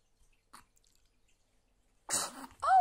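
A small child at home gives a single sharp sneeze close by after a quiet moment, followed right away by a brief adult voice.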